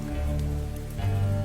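Steady, dense rain falls continuously at night in a lonely forest, a close, even hiss with a low rumbling undertone, heard alone without speech, for a horror cartoon.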